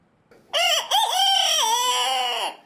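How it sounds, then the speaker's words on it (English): A black silky chicken, also called a blackbone chicken, gives one loud, close, drawn-out crow of about two seconds, with a short break after its opening note, then falls quiet. "With super soft feathers and striking black skin, these are silky chickens."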